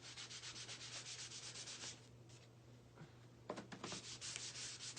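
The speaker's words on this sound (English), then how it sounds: "just using a little bit and making sure that I buff it in really well" Wax is buffed by hand onto a painted surface with a rhythmic rubbing and swishing. The strokes are close and faint and stop briefly before starting again, with no voice over them.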